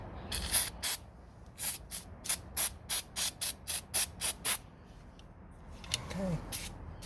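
Liquid Wrench penetrating spray hisses onto the door mechanism of a 1969 Corvette in a string of about a dozen short, sharp close-up bursts, followed by a quieter stretch and one last spurt.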